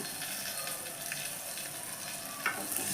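Green chillies, coriander leaves and curry leaves sizzling steadily in hot oil in a pan, a continuous close frying hiss with small crackles and a couple of brief stirring bumps, no talk.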